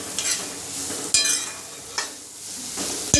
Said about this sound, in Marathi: आणि हे आधी चांगलं तेलात फ्राय करून घ्यायचं। कांदा चांगला लालसर होईपर्यंत परतून द्यायचा।